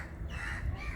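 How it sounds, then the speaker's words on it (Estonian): Crows waiting to be fed give a couple of short, hoarse caws nearby over a steady outdoor background rumble. "Varesed vaatasid, aga ei, ta praegu süüa ei andnud ja olid siin natukene pahased ja lendasid kaugemale"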